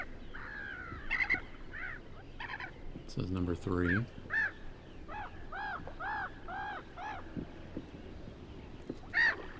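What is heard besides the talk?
black-headed gull calls, field guide recording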